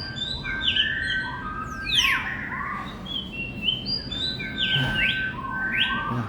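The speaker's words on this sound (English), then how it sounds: "You can hear the common sounds of the birds just by putting your hand." Recorded common bird calls play from a touch-activated display at the Bird Paradise exhibit, clear chirps, sweeping whistles and squawky notes repeating in close bursts over faint room murmur.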